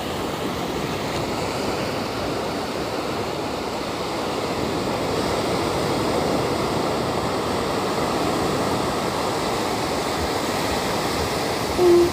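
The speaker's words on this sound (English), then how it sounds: "Just enjoying the ocean." Ocean waves wash onto a quiet beach in a continuous, broad rushing roar, steady and fairly close, with a faint wind hiss and no voices.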